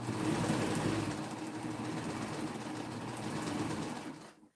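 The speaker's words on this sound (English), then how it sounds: "I'm sewing right through the ties that I did" Sewing machine running steadily as it stitches through a quilt and its ties, a continuous close mechanical whir that holds level for several seconds before cutting off at the end.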